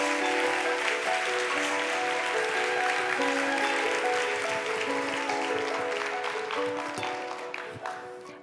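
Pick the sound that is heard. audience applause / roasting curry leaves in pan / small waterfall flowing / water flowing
audience applause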